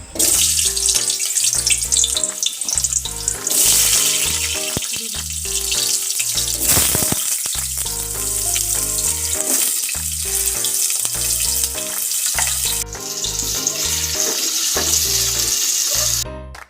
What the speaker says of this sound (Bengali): তেল একটু গরম হয়ে এলে তাতে আমরা আলু ও পনির ভেজে নেব